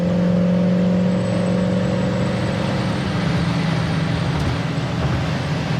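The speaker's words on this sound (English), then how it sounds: "we're going to start out low and just kind of go through the gears, show you how that new transmission shifts" A 1965 Ford Mustang Coupe accelerates down a road, its engine note rising and dropping as it shifts through the gears, with steady road and wind noise beneath.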